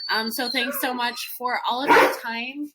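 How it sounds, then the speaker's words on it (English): A dog barks a few times close by while someone speaks over it during a chair yoga session, with one louder bark near the end. "That's my dog saying hi again."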